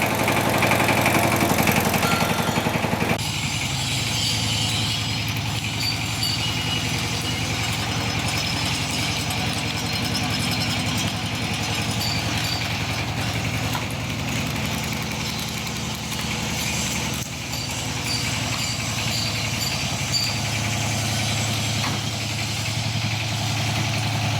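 A firewood splitting machine runs without splitting any wood. It gives a steady mid-pitched engine-like drone with constant vibration and a slight drop in level after the first few seconds, heard alone with no talk.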